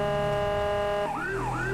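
A Wheeling Syncom Sapphire Howler police siren in the GTA 5 video game gives a steady tone that switches into a rising and falling wail, clear and sustained throughout.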